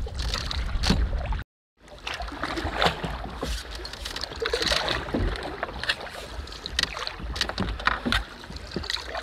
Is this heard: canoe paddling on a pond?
yes